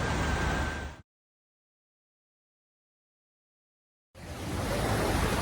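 Sea waves at a beach wash in as a loud, steady hiss of surf. The sound cuts to complete silence for about three seconds, then the surf swells back in.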